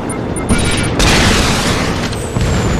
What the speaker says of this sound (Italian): Distrutto anche l'elicotterino.